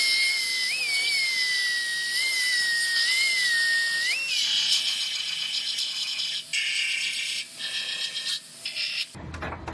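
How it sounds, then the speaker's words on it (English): A power drill whines at high pitch, its speed rising and dipping, then chatters and grinds into metal, drilling out spot welds on a Subaru, with a few brief pauses. "I'm going to drill out those few welds"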